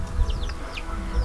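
A mother hen clucks softly near her baby chicks, short close-up calls with faint higher chirps over a low background rumble.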